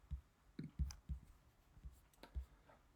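A computer mouse clicks several times at uneven intervals, each click soft, dry and close, in an otherwise quiet room with no talking.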